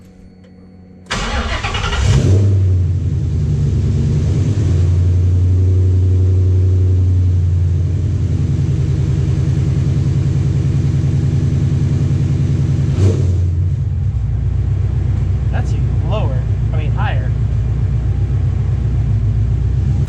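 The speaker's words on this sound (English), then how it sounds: "Now we're going to crank it up again and double check our RPM." A car engine is cranked and fires at about one second, then runs steadily loud and near with a brief rev and a rise near thirteen seconds, idling on afterward while work on its gauge cluster goes on.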